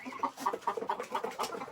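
Farm chickens, including laying hens, cluck in a quick rhythmic series of short calls nearby, fairly soft, with no talk over them.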